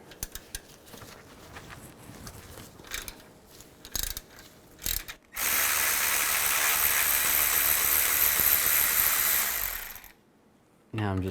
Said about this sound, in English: Now I'm going to remove these two bolts, one on each side. Use a 10mm socket.